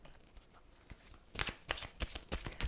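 Romance Angel Oracle cards are riffled and shuffled by hand in a quiet room, with soft scattered flicks at first, then a few louder, crisp bursts of card shuffling near the end.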